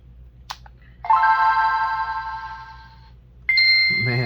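Game Boy Advance IPS V3 in white, fitted with an added amplifier, playing loud bright synthesized tones through its speaker: a short click, a sustained chiming chord, a pause, then another ringing tone burst.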